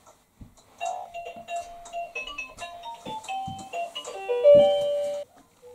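A musical toy dog plays a loud children's tune in a series of bright tonal notes, rising to its loudest stretch near the end, with a few thumps and bumps underneath.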